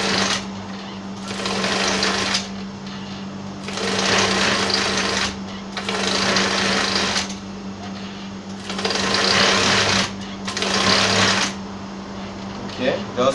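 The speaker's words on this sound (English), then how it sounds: "Just continue sewing." A domestic sewing machine stitches shirring on a smocked elastic dress, running in five bursts of fast, buzzing whir with short pauses between, a steady electrical hum underneath, up close.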